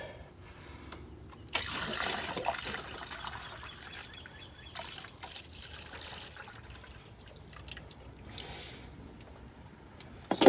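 Drained engine coolant from a 1999 Nissan Altima GXE trickles and pours into a tray in a quiet shop. The soft liquid dribbling and splashing comes in uneven bursts close by.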